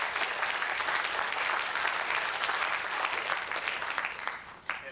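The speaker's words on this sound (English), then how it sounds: "How about a nice round of applause for all of them?" Audience applause at a 2000 Veterans Day school program, steady dense clapping for the students who presented, holding evenly then thinning toward the end with a few last claps.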